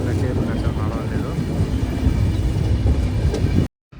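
A passenger train on the Tirupati to Vijayawada route runs over the rails in a steady, loud, low rumble with faint rattles, cutting off abruptly near the end.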